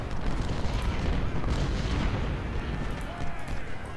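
Artillery battery opening fire in the Civil War strategy game Ultimate General: Civil War, a dense rumbling stream of booms and blasts rolling continuously, loud and layered with overlapping distant shots.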